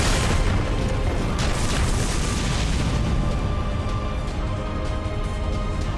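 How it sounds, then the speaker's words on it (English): In a visual novel video game, the ground erupts in a loud, sustained rumble and roar of bursting soil, a dense, continuous blast of noise with sharp crackling hits and no speech. "It's an explosion of soil, a veritable upheaval of the ground."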